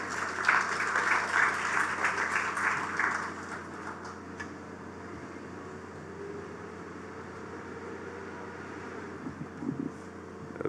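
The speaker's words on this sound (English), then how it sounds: "Please give him a round of applause." Applause for a government minister at the launch of the One Family Programme, held outdoors at Golden Square Freedom Park: a crowd clapping fairly loudly for about four seconds, then fading into steady low background noise.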